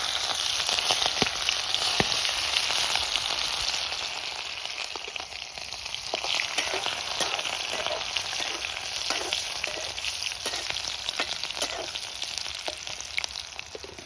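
Fenugreek leaves and chillies fry in hot oil for a Kathiyawadi peanut bhajiya curry, giving a dense, steady crackling sizzle dotted with small pops and occasional stirring. The sound is close, with no talk.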